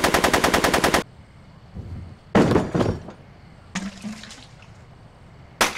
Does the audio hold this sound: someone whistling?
no